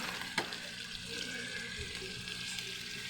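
Tilapia simmering with vinegar in a pan for ginataang tilapia, a steady soft sizzle and bubbling with a brief knock of the utensil early on, stirred gently and heard up close.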